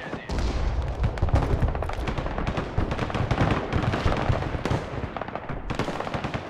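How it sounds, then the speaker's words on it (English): Tanks are bombed in the video game Broken Arrow: a dense, continuous barrage of loud explosions and crackling gunfire bursts, with no pause for the full stretch. "Gonna bomb shit out of those tanks."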